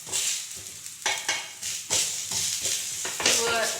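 Ragi roti frying in a pan with oil poured over it, a steady close sizzle with bursts of crackle as the oil hits the hot pan, continuing throughout.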